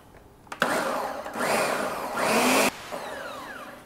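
A countertop blender liquefying egg loaf batter laced with hot sauce switches on with a sharp start, whirs loudly through pulsing speed changes for about two seconds, then cuts off abruptly, close and without talk.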